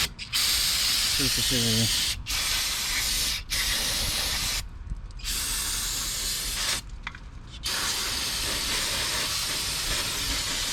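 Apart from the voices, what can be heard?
brake cleaner spray on brake parts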